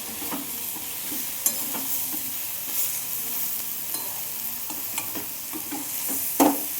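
Potatoes frying in a kadai as a masala cooks down, with a steady close sizzle broken by repeated scrapes and knocks of a spoon stirring the pan.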